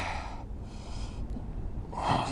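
Heavy breathing during a spinal breath-work exercise with the hips and neck lifted, slow rushing inhales and exhales that swell and fade, close to the mic with no talking.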